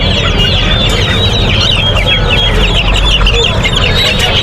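One-month-old silkie chicks and other fowl at the Tongi poultry market, loud dense clucking and chirping from many birds at once over constant crowd rumble.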